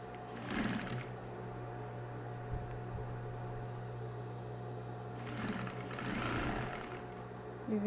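Sewing machine stitching a fabric binding strip for a bathroom set, heard as a close, steady motor hum with faster whirring bursts at the start and again midway.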